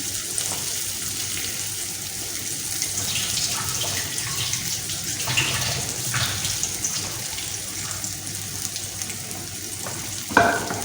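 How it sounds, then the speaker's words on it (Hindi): Goat chops fry in a little oil in a home kitchen, a continuous soft sizzle with faint scraping of a utensil and a sharper clink near the end, no talking. "बहुत ज़्यादा ऑयल नहीं डालना, हल्के ऑयल में फ्राई करेंगे।"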